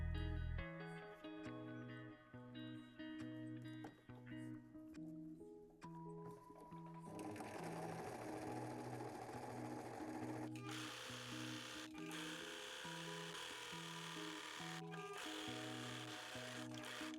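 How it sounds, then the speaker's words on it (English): A sewing machine sews elastic straight onto fabric, starting with a few low mechanical pulses before settling into a sustained, faint whir with brief stops. "I'm going to sew it straight on the fabric"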